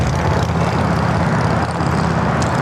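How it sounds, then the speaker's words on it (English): An All Nippon Airways Dreamliner arriving from Tokyo Haneda comes in to land at LAX. Its jet engines give a loud, steady roar close by, with no voices over it. "All Nippon Dreamliner, coming in from Tokyo Haneda"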